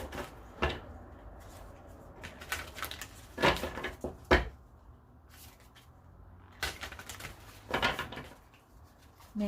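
Angel ancestor oracle cards being shuffled in several quick, crisp riffling bursts separated by short pauses, fairly quiet and close, with no talking.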